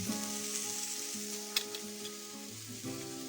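Cauliflower (gobi) dropped into a hot pan sizzles steadily and close up, a continuous frying hiss with a faint stir clink partway through.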